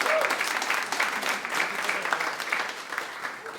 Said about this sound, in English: Round of applause to the 7 over here in the front row.